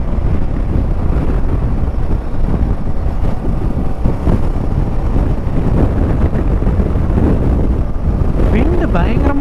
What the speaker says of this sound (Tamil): விண்டு பயங்கரமாக இருக்குது,